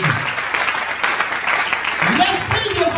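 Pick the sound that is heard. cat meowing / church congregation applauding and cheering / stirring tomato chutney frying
church congregation applauding and cheering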